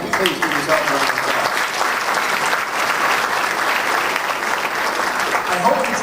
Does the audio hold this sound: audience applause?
yes